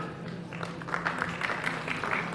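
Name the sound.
audience applause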